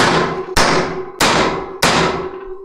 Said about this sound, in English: Now the holes are center punched,